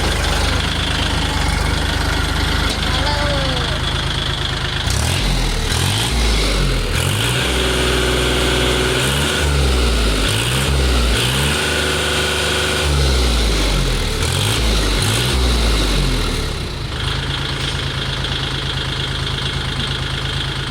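A Kubota L4018 tractor engine runs steadily and loudly close by, its low rumble rising and falling in rhythmic pulses through the middle stretch.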